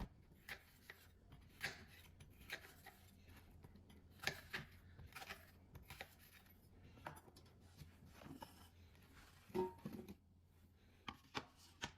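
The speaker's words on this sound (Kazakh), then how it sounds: "көк алмамызды жуып тазалап алып, ортасындағы қажетсіз жерін алып тастап, осылай бірнеше бөліктерге бөліп турап аламыз" A knife chops a green apple into pieces on a board, producing quiet, irregular taps and cuts spaced out over several seconds, close up, with no one talking.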